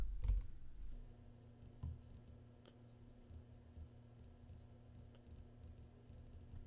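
Computer mouse clicks and keyboard typing at a desk, a burst of close, crisp clicks at the start followed by sparse, faint taps over a steady low hum, with no talking.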